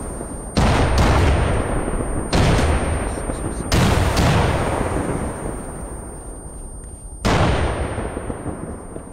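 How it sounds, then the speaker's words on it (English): Frag grenades exploding in a shooter video game: four loud, heavy booms spaced a couple of seconds apart, each with a sharp onset and a long rumbling decay, over steady background game noise. "Frags out, frags"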